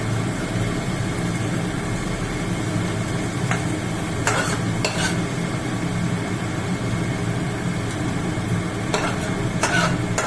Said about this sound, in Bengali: এই দেখুন পেঁয়াজটা প্রায় ভাজা হয়ে গেছে।